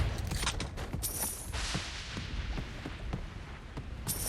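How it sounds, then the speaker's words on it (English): Repeated gunshots crack out while a small demon is shot in Saints Row: Gat Out of Hell, loud overlapping bursts with sharp high pings scattered throughout. "I'm just shooting a little demon."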